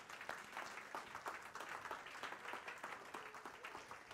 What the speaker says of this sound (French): oui, on peut applaudir le Seigneur.